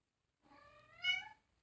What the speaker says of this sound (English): You can hear my kitties over there.